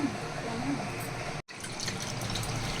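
Water pouring into a pot of fish curry, a continuous splashing rush that breaks off for an instant midway and then resumes, close and fairly loud.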